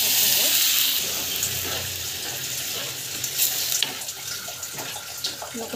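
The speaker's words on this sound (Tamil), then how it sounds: "தண்ணி தேவையான அளவுக்கு தண்ணி கொடுத்துக்கோங்க." Water is poured into food sautéing in a cooking pan. A loud, hissing sizzle opens strongly, then eases into quieter, uneven bubbling and spattering, with a faint voice in the background.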